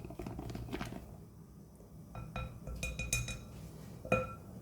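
Sourdough starter is stirred in a glass, with a spoon giving scattered clinks and taps against the sides between soft sticky stirring sounds, close and quiet with no talking.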